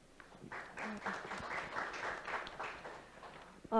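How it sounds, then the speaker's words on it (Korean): Applause from a forum audience greeting a presenter at a data innovation conference session, a steady crowd clapping that swells and holds for several seconds before tapering off. "큰 박수로 맞이해 주시겠습니다"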